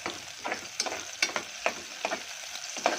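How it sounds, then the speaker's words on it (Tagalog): Onion and garlic sizzle in a pan for a sardine and miswa sauté, with repeated sharp scraping stirs over a steady frying hiss; no one speaks. "tingnan nyo yung ginigisa natin"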